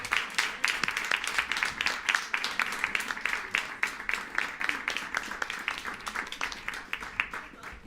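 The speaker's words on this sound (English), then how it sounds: "we will give everyone a good applause and we finish for the day" Applause rings out for presenters on stage at the close of a seminar day, many hands clapping in a fairly rhythmic, lively pattern that stays strong for several seconds.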